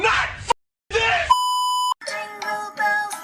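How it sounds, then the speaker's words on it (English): A smoke detector beeps in a single steady electronic tone lasting about half a second, set between short bursts of animated voices and tonal music. "Are you a smoke detector?"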